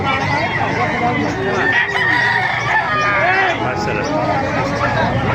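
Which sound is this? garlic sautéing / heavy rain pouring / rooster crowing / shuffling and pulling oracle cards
rooster crowing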